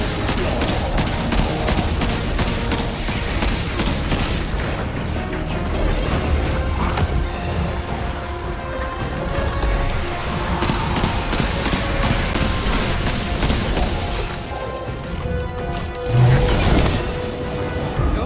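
Rapid gunfire bursts and impacts from the video game Destiny 2 in Gambit Prime mode, dense and continuous over game music and effects, with a heavy boom near the end.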